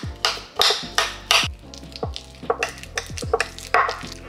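A spoon stirs rice with a tablespoon of reduced-fat cream cheese for Korean-style inari sushi, giving a run of close, irregular scraping and clacking strokes against the bowl with short pauses between them.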